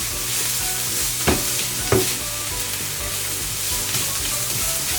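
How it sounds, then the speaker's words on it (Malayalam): Onions roasting in a pan for a chicken sukka sizzle steadily and close, with two sharper scraping strokes of a stirring spoon partway through; no voices. "നമുക്കിവിടെ കാണാം നമ്മുടെ സവാളയൊക്കെ ഒന്ന് റോസ്റ്റ് ചെയ്ത് കളറൊക്കെ ചെറുതായിട്ടൊന്ന് മാറിയിട്ടുണ്ട്"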